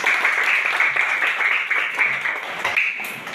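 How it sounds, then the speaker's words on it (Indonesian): Applause from schoolchildren in a classroom after a prayer, a steady, fairly loud patter of many hands clapping throughout, with no talking over it. "mari kita berikan tepuk tangan"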